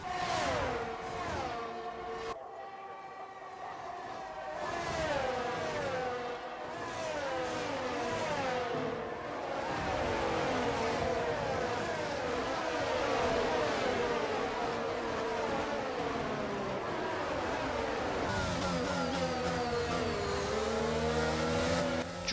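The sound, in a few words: F1 race cars driving, from video game F1 22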